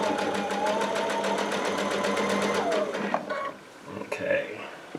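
A Baby Lock Altair sewing machine stitches quilt binding in a fast, even mechanical patter for nearly three seconds, then slows and stops, followed by a few clicks and soft handling sounds of the quilt.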